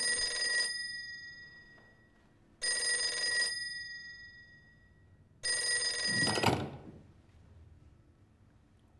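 An old-fashioned telephone bell rings in three long bursts with pauses between, in a Chinese anti-Japanese war drama, fairly clear in a quiet room, and a brief clatter follows the third ring as the handset is picked up.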